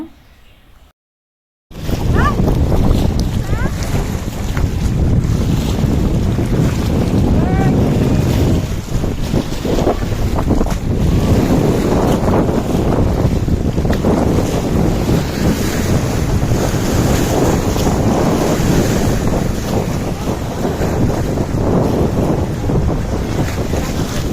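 Strong wind buffets a trawler on a boat trip in rainy weather, with constant loud roaring gusts and water noise filling the whole stretch after a brief quiet start.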